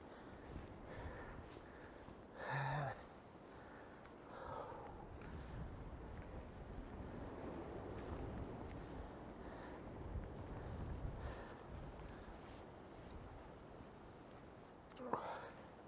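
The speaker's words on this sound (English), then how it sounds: "That wind's strong." Strong wind in the Berwyn hills buffets and rushes across an open slope, a broad, gusty roar that swells and eases for the whole stretch, with faint voices briefly audible.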